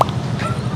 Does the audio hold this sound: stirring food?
no